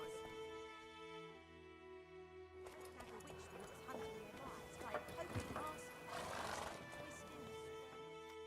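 In The Witcher 3, the horse Roach neighs, and its hooves clop in a busy trot with clattering, loud and close over game music and ambience.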